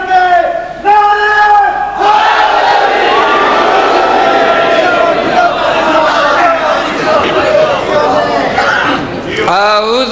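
Large mourning congregation at an imambargah during a Safar majlis, chanting religious slogans in unison with raised hands; loud, sustained massed voices filling the room, rising and falling across the stretch.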